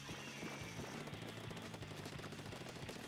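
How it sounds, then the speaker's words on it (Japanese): In the Splatoon video game, the Senpai Cannon fires in a rapid, continuous stream of muffled booming blasts. The sound stays faint and dense throughout, with a thin high tone in the first second. "先輩キャノン、発射。"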